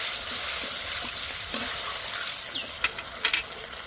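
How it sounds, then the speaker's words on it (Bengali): Spices sizzling and being stirred in a pan with a splash of masala-rinsing water for a vegetarian ridge gourd curry, a steady close frying hiss with a few sharper scrapes and spatters near the end. "এবার ভালো করে কষে নেব।"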